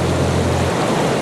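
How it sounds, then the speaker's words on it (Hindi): A waterfall pours in a steady, dense roar of rushing water, loud and near, filling the whole moment without pause. "ये झरना कितना अच्छा लग रहा है नहीं?"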